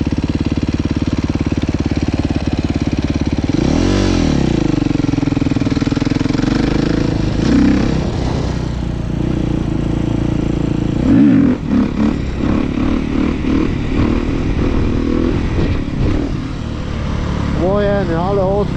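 A motorcycle engine runs steadily nearby, with a rising and falling rev around the middle, while people talk over the drone.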